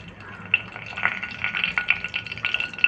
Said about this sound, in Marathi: आता ह्यामध्ये आपण तमालपत्र टाकू